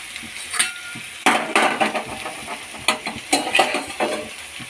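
Bitter gourd pieces stir-frying uncovered in a pan on a low-medium flame, a crackling sizzle with bursts of scraping and clattering as the spatula tosses them, close and fairly loud.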